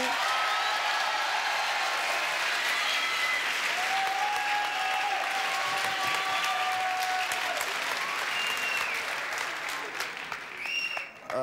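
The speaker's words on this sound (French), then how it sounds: "Une salve d'applaudissements un peu plus importante que Philippe" A television studio audience applauds at length for a young woman named Audrey, a loud, even roar of clapping with faint voices and whoops above it before it tapers off at the end.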